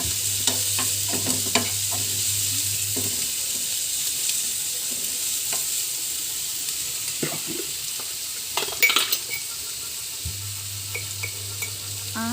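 Onions fry in a pan with a constant sizzle while a spoon stirs, making repeated close scrapes and clinks against the metal and a faint steady hum in the background, no speech.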